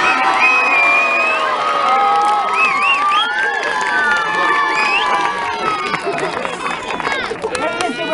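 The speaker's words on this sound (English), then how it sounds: "You have stolen a cheer before it were ready to be given." A crowd at a castle jester event whoops and cheers loudly, with children shouting and high excited voices overlapping throughout, fading slightly toward the end.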